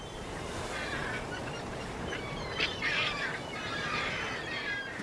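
Seabirds call at sea off Cape Horn, a flock giving repeated honking, quacking cries in overlapping bursts over a steady rush of wind and water.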